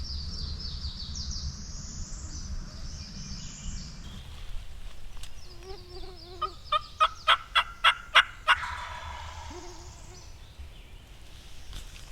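A wild turkey gobbles from a moderate distance in South Carolina, a quick rattling burst of rapid pulses, with faint bird calls and outdoor ambience around it.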